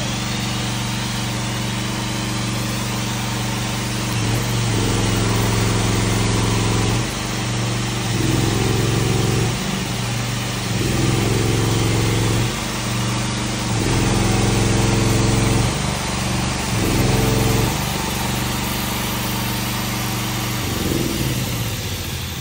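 Engine of a combined welder and generator running steadily and loudly throughout, a continuous droning buzz with slight rhythmic swells in pitch, no talking.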